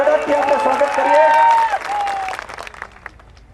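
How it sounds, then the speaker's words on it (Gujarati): A crowd at a Morbi political rally applauds to welcome Jitubhai Agara, head of the Simpolo Group. The dense clapping runs under a voice and tonal sounds, then thins out and fades. "જોરદાર તાળીઓના ગડગડાટથી આપણે સ્વાગત કરીએ"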